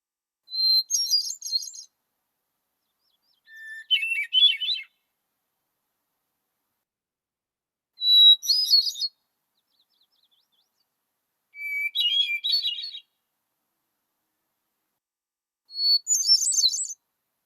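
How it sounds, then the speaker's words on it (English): A hermit thrush sings alone in quiet: five separate clear, fluting phrases spaced several seconds apart, each a short whistled series of high notes. "The Hermit Thrush has a song that is very identifiable"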